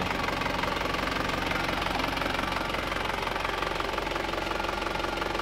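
Isuzu Panther diesel engine idling with an aftermarket muffler, a steady rapid knocking clatter with a continuous rumble and faint whistle, close and unchanging throughout.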